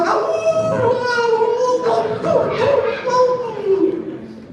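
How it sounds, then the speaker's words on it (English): A dog howls and whimpers in a long drawn-out wail with wavering pitch, close and fairly loud, during a live presentation. "that's another dog I just heard"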